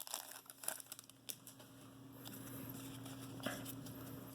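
Foil wrappers of 2020 Donruss NASCAR blaster packs being torn open: a few sharp crinkling rips near the start, then quieter rustling and crumpling of packaging up close, all fairly faint.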